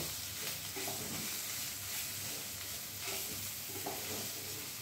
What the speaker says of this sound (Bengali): এবার মশলাগুলো প্রথমে একটু ভালোভাবে কষিয়ে নেব